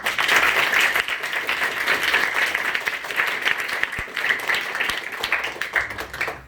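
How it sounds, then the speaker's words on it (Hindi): Loud, continuous applause from an audience at a rationalist public talk in Surat, Gujarat, with thick clapping throughout and a few sharper individual claps standing out near the end. "तो एक माँ के लिए भी जोरदार ताली"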